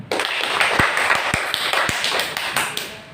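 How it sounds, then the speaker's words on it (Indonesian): A classroom of students applauds a classmate with short, light clapping. Sharp individual claps stand out over a soft patter, and the sound stays fairly quiet throughout. "kita berikan juga aplaus untuk Ade Fitra"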